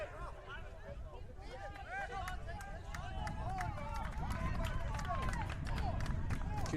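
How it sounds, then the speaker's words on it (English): A soccer stadium crowd cheers on its team at a men's match, a dense roar of voices and shouts rising steadily, with a commentator talking over it. "You can hear this Stormy Petrel crowd trying to get behind"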